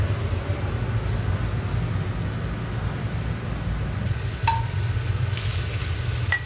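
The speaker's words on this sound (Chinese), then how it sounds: "这就是纯粹炒一个辣椒" Chili peppers stir-fried in a wok over high heat give a steady, continuous sizzle with a hum behind it, and a few faint clinks come in near the end.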